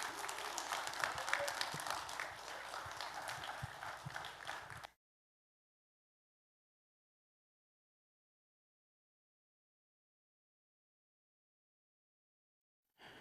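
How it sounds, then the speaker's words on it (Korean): A church congregation applauds to welcome the pastor to the pulpit, a dense, steady wash of many hands clapping for about five seconds before falling silent. "담임 목사님 나오실 때 큰 박수로 모시겠습니다."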